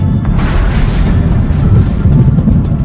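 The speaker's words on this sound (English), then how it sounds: "An explosion follows and causes waves" A deep, heavy explosion boom rumbles loud and close, with a broad low roar that swells and sustains over a few seconds, no voices present.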